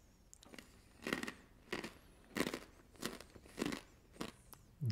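Crunchy star-shaped cheese snacks crunch between the teeth in about eight close, sharp bites spread over several seconds, quiet overall with no talking.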